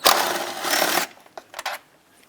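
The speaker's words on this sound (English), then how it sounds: "So use your socket to take this one out." A socket wrench backs out a 10mm bolt on the throttle body intake of a 2009-2014 Ford F-150 5.4L, giving a second of close, rapid ratcheting rattle followed by a few sharp metallic clicks.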